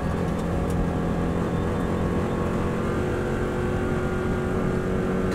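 A Subaru race car runs flat out in sixth gear around a fast pair of left-hand bends, its engine a loud, steady, dense roar heard from close by with no letup.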